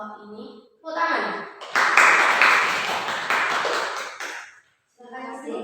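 Classroom audience applauding after a group presentation, a burst of clapping lasting a few seconds, framed by speech before and after.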